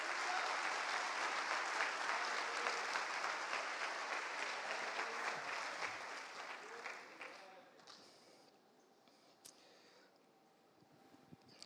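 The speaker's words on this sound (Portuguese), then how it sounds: "Pode aplaudir para a glória dEle." A church congregation applauds during an Easter service, a dense, loud burst of clapping that holds for several seconds, then thins and fades to scattered claps and quiet room sound.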